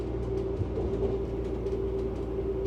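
Regional train running on rails, heard from inside a first-class carriage: a steady low rumble with a constant hum and faint rhythmic wheel clatter, no talking.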